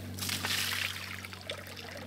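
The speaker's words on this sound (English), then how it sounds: "Now, whenever I open this side over here, it will squirt water out." Water squirts from the outlet of a half-inch ram pump in an off-grid install, a close, steady hissing splash running throughout over a low hum.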